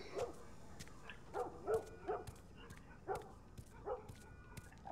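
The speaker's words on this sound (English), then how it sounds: "I'm hearing a lot of barking." Distant dogs barking inside the video game The Last of Us, a scattered run of short, faint bow-wows and yips at irregular intervals over a low ambient background, with no talking.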